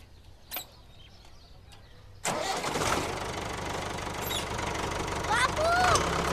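A tractor engine starts up abruptly and keeps running with a steady, loud mid-range rumble in a farm village setting, with brief voices heard before and over it.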